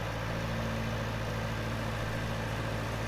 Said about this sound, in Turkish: Gaza basıyorum basıyorum gitmiyor traktör.